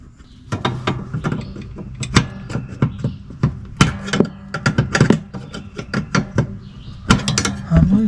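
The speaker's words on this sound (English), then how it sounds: "I think I'll start by trying to get this little keeper washer back in place." Metal clicks, taps and short scraping knocks come up close in uneven bursts as a small keeper washer is worked onto the parking brake cable of an XUV550, with no talking.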